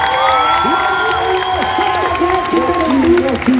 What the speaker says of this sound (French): Mais applaudissez-les s'il vous plaît,